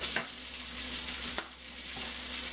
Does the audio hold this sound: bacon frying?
yes